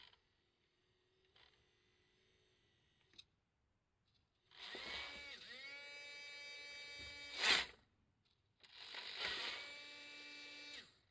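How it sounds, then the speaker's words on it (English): Small electric motor of a smoke generator in a radio-controlled van, driven from a 6-volt supply, whirring in two separate spin-ups that rise and settle, with a brief sharper whine between them; close but quiet, with faint background hum. "when you can hear that motor running, and that's the smoker, and that's the 6-volt supply driving that"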